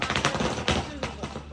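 Firecrackers burst in rapid irregular crackling pops at a festive outdoor gathering, loud and dense, with a few heavier bangs standing out over general background noise.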